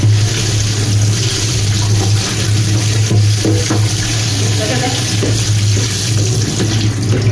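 Tap water runs steadily into a kitchen sink while okra is washed, a continuous close splashing gush with a low hum beneath it, lasting the whole stretch with no clear talk.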